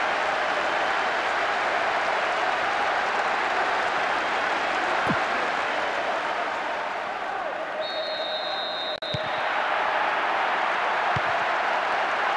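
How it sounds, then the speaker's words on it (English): Crowd applause and clapping ring out in a PES football video game after a goal, a dense, steady roar of hands and cheering that holds at full level throughout, with a brief whistle-like tone near the end. "Even some of the opposing fans are clapping that."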